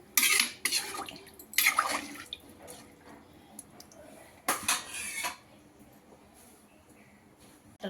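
Water is poured into a pressure cooker holding rice for tomato rice, in a few short splashy bursts with metallic clinks of utensils between them, close and fairly loud against a quiet kitchen.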